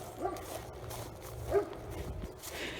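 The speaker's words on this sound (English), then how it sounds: "You'll hear the other dog up here." A dog barks faintly in the distance along an outdoor trail, two or three soft, muffled yips spaced apart over low ambient noise.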